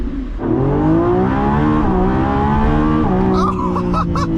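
A Lamborghini Revuelto's V12 engine holds a loud, steady, close-up drone with sustained harmonic tone, rising slightly in pitch before easing, then a brief shift near the end with faint higher crackles.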